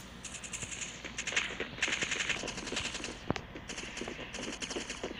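Rapid automatic gunfire in the mobile shooter game Forward Assault rattles in several sustained bursts with short gaps, fairly faint and close, with one sharper single shot partway through.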